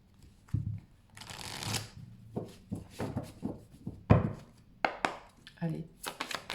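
Tarot cards shuffled by hand in a series of crisp riffling bursts and soft slaps, close and moderately loud, with brief pauses between bursts.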